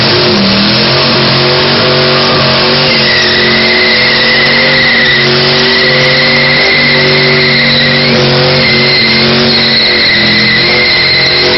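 A car engine revs hard at a cruising meet, loud and sustained with rising and falling pitch sweeps as the throttle is blipped, heard up close and dominating throughout.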